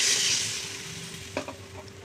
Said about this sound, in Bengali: মশলাটা কষা হবে দেখো মশলাটা তেল ধরে ছেড়ে দিয়েছে আমি এবার একটু জল দিয়ে দিলাম